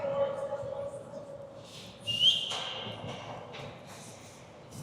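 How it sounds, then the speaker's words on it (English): A referee blows one brief, shrill whistle to call icing at a junior ice hockey game between the Colorado Rampage and the Milwaukee Jr Admirals. It cuts through steady arena crowd noise and rink rumble. "So we'll get a whistle."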